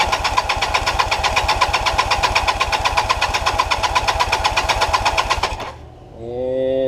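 A Kawasaki LTD440 motorcycle engine cranks for several seconds with a fast, even chugging rhythm but never catches, then the starter stops and someone speaks close by.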